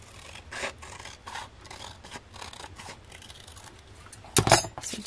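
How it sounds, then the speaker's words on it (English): Scissors trim along the edge of a paper envelope in a series of soft, quick snips and rasping cuts, quiet and close, with a louder burst of crisp cutting near the end. "we're going to just trim it up nice and close"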